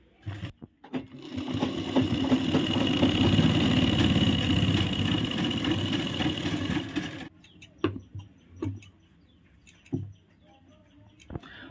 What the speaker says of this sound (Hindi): अब हमने यहाँ सिलाई लगा दी है।